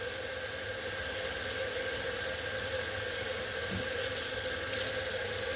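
Nama J2 juicer parts rinsed under a running tap, a steady, even rush of water hissing continuously at moderate level with no talk over it.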